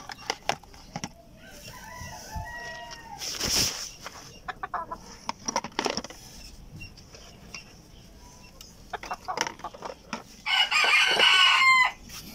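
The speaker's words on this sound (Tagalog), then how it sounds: "puntahan na natin ang aking USL na may mga sisiyo na" US Silkie hen with chicks in a backyard, scattered clucks and bird calls over a quiet background, with a few louder bursts and rustling noises.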